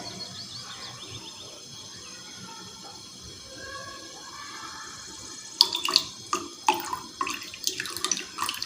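Vinegar poured into heated milk in a pot for homemade mozzarella, a soft trickle at first, then sharper splashing and clinking bursts near the end, close and fairly loud.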